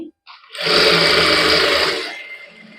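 A sewing machine runs in one quick burst of about a second and a half while stitching lining onto a garment sleeve, a close whirring rattle that starts and stops cleanly.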